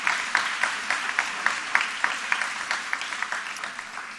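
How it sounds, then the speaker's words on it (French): Audience applause at a conference session on working hours, moderately loud, with rhythmic clapping that pulses steadily for several seconds, no talk over it. "Vous pouvez l'applaudir."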